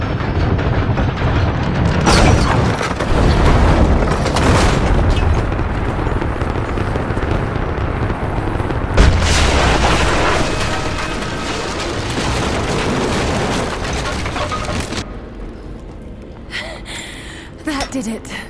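Heavy explosive booms from Rise of the Tomb Raider rumble through a dense, loud game soundscape, with a sharp blast partway through, sustained roaring debris and effects afterward, and a voice talking over parts of it.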